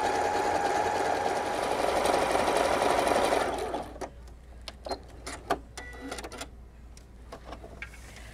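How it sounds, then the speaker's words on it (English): Sewing machine finishing the long edge of a tote bag panel, a loud steady close whir for about four seconds, then scattered soft clicks and handling taps. "just stitch that long edge, and this will keep the inside of your bag from fraying"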